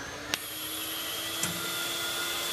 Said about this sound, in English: There's our vacuum cycle.